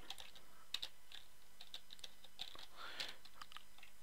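Quiet typing on a computer keyboard while writing code in a game engine's script editor, irregular light key clicks with small bursts and pauses, close but soft, with no talking.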